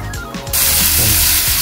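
A sudden loud sizzle bursts up as onion hits hot oil, settling into a steady crackling hiss.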